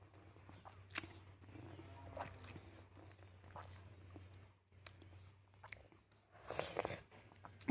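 Someone eats sliced fruit sprinkled with black salt, with faint, close chewing and soft crunching bites heard repeatedly in a quiet room.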